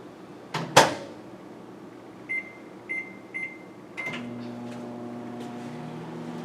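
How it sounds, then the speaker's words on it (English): A low-powered microwave oven cooking a mug cake hums steadily after a door clunk and a few short beeps, with the fan drone continuing to the end. "then back into the microwave for, I'm going to put it in 40 seconds for this microwave because it's low powered"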